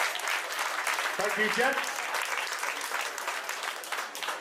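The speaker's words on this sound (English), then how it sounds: "Round of applause for the 105 kilo class." Sustained applause from a crowd greets the 105 kg men's weightlifting class at a British Open competition, loud and steady throughout, with someone speaking briefly over it near the start.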